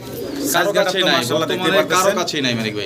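A pair of American Lakha pigeons, almond-coloured, coo in repeated throaty rolls, close and fairly loud, with overlapping calls across the clip.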